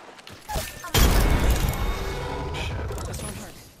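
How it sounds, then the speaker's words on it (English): A frag grenade explodes in a video game, a sharp loud blast followed by a sustained crackling, rumbling decay over a few seconds. "frag out."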